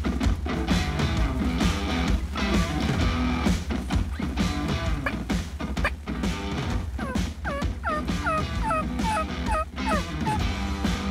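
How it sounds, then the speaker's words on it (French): Wild turkeys just across a small valley gobble repeatedly over a dense, continuous bed of outdoor noise, several rapid bursts fairly close and loud toward the end. "Les dindons sont juste de l'autre bord du vallon."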